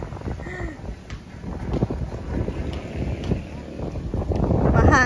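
Gusty wind buffets the microphone with low rumbling bursts, swelling stronger toward the end, while people talk nearby.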